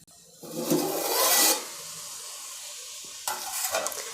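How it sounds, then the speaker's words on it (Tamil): Crab fries in a pan over a high flame for village-style nandu kulambu, giving a loud sizzling hiss and shaking rattle that surges, eases into a steady fry, then flares again near the end. "அப்பப்போ நீங்கள் இப்படி குலுக்கி வச்சு ஹை ஃப்ளேம்லேயே இதை ஒரு 5 நிமிஷம் நம்ம குக் பண்ண விடணும்"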